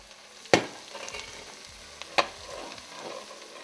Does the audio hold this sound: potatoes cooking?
yes